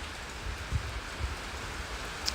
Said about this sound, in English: Look at those curtains of rain coming down.